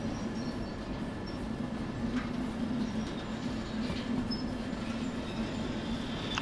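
A train in Derail Valley rolls along its rails with a low steady rumble and faint clicks and squeals from the wheels, a continuous moderate drone that carries on without any voices.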